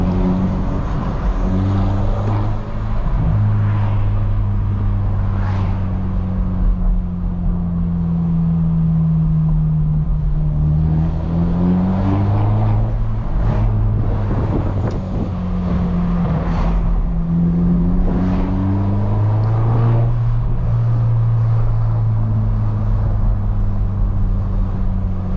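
A modified BMW 118i F21 engine drones steadily while driving on open roads, its pitch rising and falling smoothly through gear changes, loud and continuous with no talk over it.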